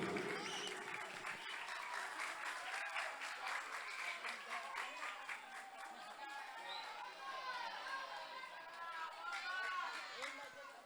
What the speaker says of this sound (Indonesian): Mana tepuk tangannya untuk saudara Rizal Wahyudi